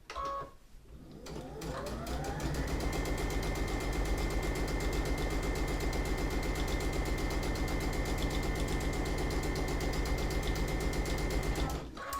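A sewing machine runs continuously while stitching a cushion, its fast, even mechanical whir and needle clatter close and steady for about ten seconds after a brief start-up, stopping abruptly at the end.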